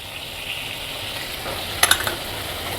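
Salt, turmeric and chilli powder sizzle steadily in hot oil in a pan as the spices are stirred, a soft continuous frying hiss with a few brief scraping clinks near the end.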